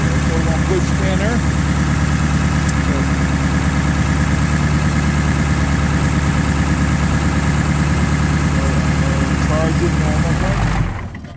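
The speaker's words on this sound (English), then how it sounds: "start it when you're ready. Just increase RPM to about 2500." A car engine running steadily at a raised idle of about 2500 RPM, loud and close with a constant drone for the whole stretch before cutting off at the end.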